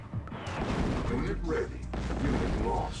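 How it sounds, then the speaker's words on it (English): Artillery fire in Command & Conquer: Tiberian Sun comes as dense, overlapping booms and blasts that rumble continuously through the moment, loud and layered like a battle in full swing. "Oh, you've got artillery? That's okay. I've got artillery too."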